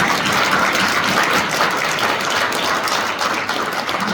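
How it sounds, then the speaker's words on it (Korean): Congregation in a church applauding during an elders' retirement and installation celebration service, a steady dense wash of clapping that fills the room and holds evenly throughout. "우리 하나님 앞에 은혜의 감사 박수 한번 보내주세요"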